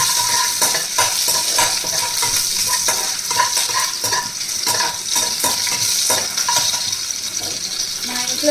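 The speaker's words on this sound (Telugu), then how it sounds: "ఇదండి వెల్లుల్లిపాయలు కూడా వేస్తున్నాను." Garlic sizzles and fries steadily in hot oil with cumin seeds in a pan for bitter gourd curry, with continuous crackling and occasional clinks of a stirring spoon against the pan.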